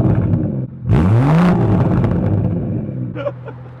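BMW car exhaust revved once in sport mode, a loud rising roar that swells and falls within half a second, then settles into a steady idle rumble with brief voices nearby.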